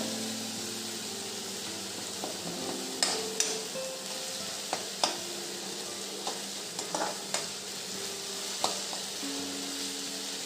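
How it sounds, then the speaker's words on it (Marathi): Chopped onion fries in oil with curry leaves in a pan, browning for a leftover bhakri churma breakfast. Steady close sizzle carries through, broken by irregular scraping stirs and spoon clinks, with no talk. "कांदा तेलात छान आपण आता लालसर भाजून घेऊ छान परतवत राहायचा कांदा"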